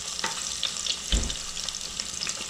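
Garlic and three red chilies sauté in hot oil, a steady bright sizzle with a brief stirring scrape near the middle, close and moderately loud with no talk.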